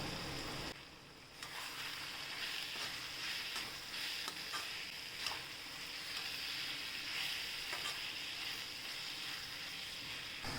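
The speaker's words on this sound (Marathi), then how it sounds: "ही शिमला मिरची पण हे छान तेलामध्ये परतून घेऊया" Carrot, cabbage and capsicum sautéing in oil for idli manchurian, a soft, continuous frying sizzle with faint intermittent ticks from stirring, quiet and steady, no speech.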